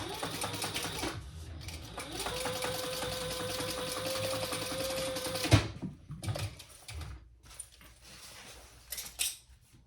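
A sewing machine top stitches the bottom gusset of a sling bag, a steady rapid needle clatter for several seconds at moderate volume, followed by stopping, a clunk and scattered handling noises.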